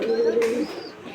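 Homer pigeons cooing at a pigeon market in Kolkata, a low steady coo running through the first half with other birds and faint crowd voices around it.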